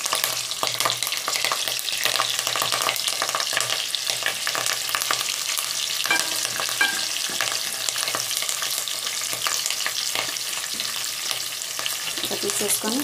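Fish pieces frying in oil with curry leaves and a chili, a steady close sizzle with crackling pops and occasional stirring scrapes, no talk.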